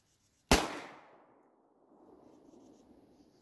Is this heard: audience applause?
no